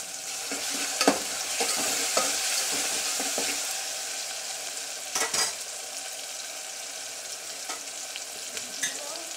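Ginger garlic paste being stirred and fried in a pan for a guar bean curry, giving a steady close sizzle broken by scattered clicks and scrapes of the spoon, with no voices.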